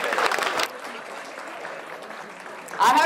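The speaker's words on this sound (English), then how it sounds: "Everyone, please give her a big applause" An audience at a black-tie magic show gives a short burst of applause that quickly fades into murmuring and a voice, then a second swell of clapping rises at the end.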